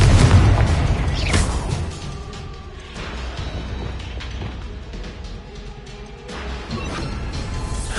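Spell explosions from the video game Hogwarts Legacy: a loud booming blast at the start, then a crash around one second, followed by lower rumbling and mechanical creaks with another burst near six seconds, no talk.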